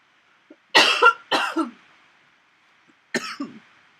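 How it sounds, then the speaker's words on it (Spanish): Three harsh coughs close by, two in quick succession and a third after a short pause, in an otherwise quiet room. "me dio un poco de tos"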